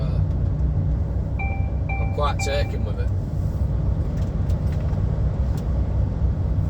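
Cab of an HGV truck driving the A68 road in the Scottish Borders, a steady low engine and road rumble running throughout, with someone talking over it and a few brief tonal beeps early on.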